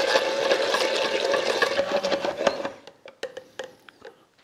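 Oil streams steadily into a whisked roe mayonnaise as it emulsifies, a close continuous pour that stops partway through and gives way to sparse clicks and taps of the whisk against the bowl.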